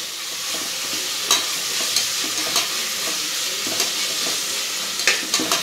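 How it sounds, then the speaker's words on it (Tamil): Prawns with masala sizzle and fry in oil in a pan, a steady close hiss broken by regular scraping stirs about every second, with no talking. "எறா இந்த எண்ணெயிலே நல்லா வதங்கி வரணும், அப்போ தான் அந்த மசாலாலாம் அந்த எறாவில் இறங்கும்."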